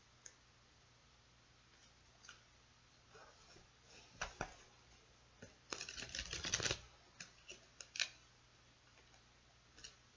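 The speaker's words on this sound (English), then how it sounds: "So I'm going to shuffle 3 more times." Oversized tarot cards shuffled by hand during a reading, a soft run of scattered ticks and light clicks building to a dense burst of riffling in the middle, then a few separate taps, close and quiet with no talk.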